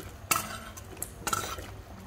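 Chopped carrots go into a cooking pot of reduced soup stock, giving sharp clatters and scrapes of a utensil against the pot in two bursts over quiet kitchen background.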